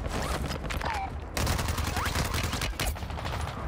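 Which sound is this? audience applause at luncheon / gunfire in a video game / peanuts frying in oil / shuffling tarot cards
gunfire in a video game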